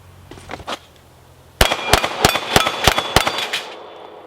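Pistol shots ringing off steel target plates in quick succession, about seven sharp cracks with metallic ring after a short pause following a few softer lead-in taps, loud and close.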